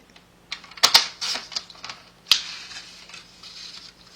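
Snips from cutting an eighth of an inch off a zig-zag fold card, a few sharp clicks and crisp bursts at close range, with a brief quieter rustle afterward.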